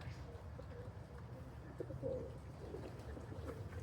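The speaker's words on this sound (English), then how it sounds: "Finally gone up with a big pack of pigeons, so they've had to break." Racing pigeons cooing softly as they return home to the loft, faint and continuous over a low background rumble, without speech.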